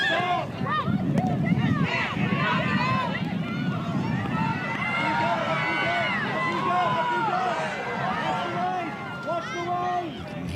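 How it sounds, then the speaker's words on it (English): A stadium crowd of Rutgers fans at a Big Ten women's soccer tournament match against Michigan roars in a steady wash of cheering and chatter, loud and continuous, with commentary voices layered over it. "Hear the Rutgers crowd"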